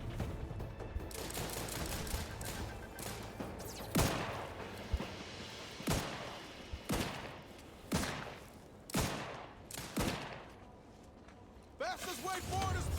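Gunfire in The Outer Worlds 2, a ragged burst of rapid shots followed by a string of separate loud cracks spaced a second or two apart, close and sharp, with a person's voice at times.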